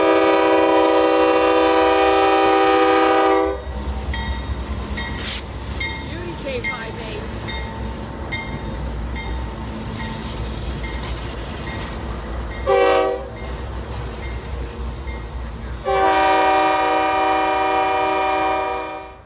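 A loud K5H multi-tone horn blasts on a CSX freight locomotive, then the freight train rumbles past with clanking cars, and the horn sounds briefly again before a long final blast.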